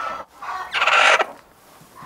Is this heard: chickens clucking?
yes